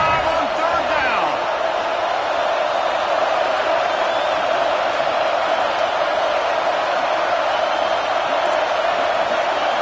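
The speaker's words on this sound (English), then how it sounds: "The Buckeye crowd alive on 3rd down." Stadium crowd roaring in an Ohio State Buckeyes home game of the NCAA 26 college football video game on third down, a steady dense wall of cheering that stays loud and unbroken throughout.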